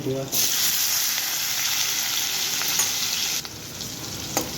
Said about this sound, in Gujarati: ડુંગળી છે મરચું છે ટમેટું